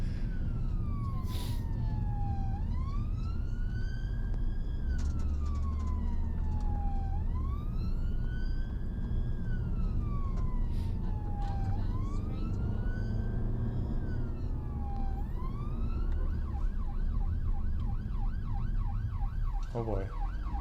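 A UK ambulance siren on a motorway rises and falls in long, repeated sweeps over steady road noise, then switches to a faster yelping pattern near the end.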